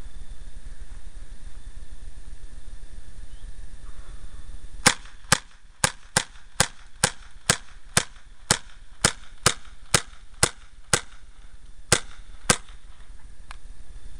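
Daisy Powerline 15XT air gun fires a string of about fifteen sharp, crisp shots at a steady rhythm during a 35-yard accuracy test, each crack standing alone against a quiet outdoor background.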